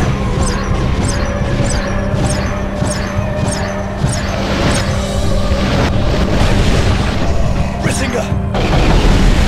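A dragon's fire blast roars in the Eragon video game, a loud, sustained rumbling burst with repeated crackling flares throughout, and a voice speaking over it.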